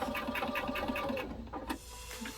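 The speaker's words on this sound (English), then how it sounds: "my machine does the back stitch, but I like to do it anyway" A sewing machine stitches across a hooded towel in a fast, even mechanical rhythm, close and clear, then stops after about a second and a half, leaving quieter handling noise.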